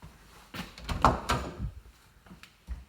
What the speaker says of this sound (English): we open up this door